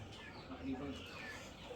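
An Aseel rooster gives a few soft, low clucks close by, quiet and scattered across a short stretch with faint background noise.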